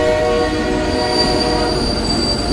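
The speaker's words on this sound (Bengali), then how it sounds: "দূরে ট্রেনের আলো দেখা যাচ্ছে রেল লাইনে ঘর ঘর শব্দ উঠেছে" An arriving train rumbles loudly and continuously along railway tracks, with a sustained high metallic wheel squeal over the heavy rolling noise and no voices.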